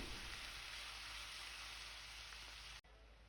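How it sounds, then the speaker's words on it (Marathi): Sliced onions sauté in a pan for a bamboo shoot curry, making a soft, steady, close sizzle that holds evenly and then cuts off abruptly near the end. "लांब चिरलेला उभा असा कांदा कांदा थोडा जास्तच घ्यायचा आहे छान असं परतवून घ्यायचं"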